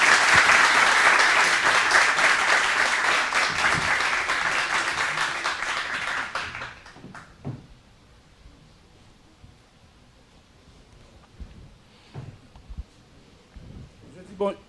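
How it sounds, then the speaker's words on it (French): Loud sustained audience applause fills a hall at a Haitian high-school quiz competition, then fades out after about seven seconds, leaving quiet room tone with a few faint knocks and rustles. "Sur vos applaudissements, s'il vous plaît"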